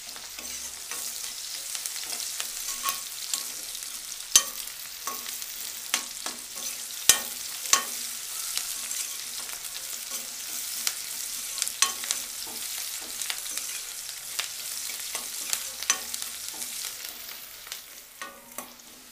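Onions frying in a pan with a pinch of salt, a steady light sizzle under repeated sharp scrapes and clicks of a spoon stirring, with no talking.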